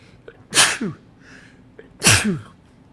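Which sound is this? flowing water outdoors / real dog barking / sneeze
sneeze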